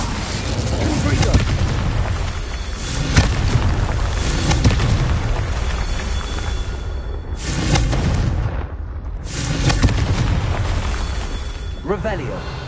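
Incendio fire spell cast in Hogwarts Legacy, producing loud booming bursts and whooshing blasts in repeated waves, with brief gaps between them.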